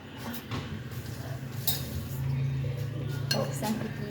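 An egg being beaten in a bowl beside a heating pan: light, quick clinks and taps of a utensil against the bowl under a low background hum, with a person speaking over it.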